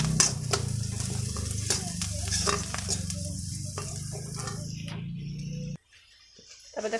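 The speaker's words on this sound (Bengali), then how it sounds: "এই যে পেঁয়াজটা লাল লাল করে ভেজে নিচ্ছি" Chopped onion with green chilli and ginger sizzles loudly in a pan, close to the mic, as a spoon scrapes and stirs in regular strokes. The hiss cuts off abruptly near the end, leaving near silence.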